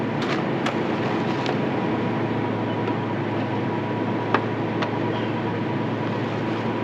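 A vehicle's engine idles steadily, a broad continuous rumble and hum that stays even throughout, with a few faint clicks on top.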